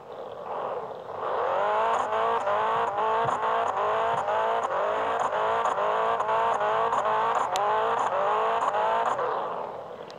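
VW Saveiro exhaust popping and crackling rapidly against the rev limiter, a loud, steady stutter of repeated cut-outs lasting several seconds, close by and alone without talk.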